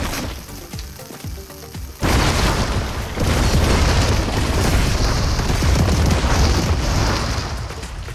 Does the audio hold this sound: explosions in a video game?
yes